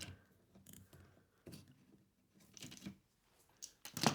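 Hose clamp pliers work hose clamps off a John Deere 318 lawn tractor, giving faint scattered metallic clicks and scrapes in short bursts with quiet gaps between them, ending in a sharper snap.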